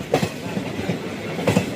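A local train runs from Sheoraphuli toward Tarakeswar, with a steady loud rumble of railcars and a few sharp wheel clacks on the track near the start and end.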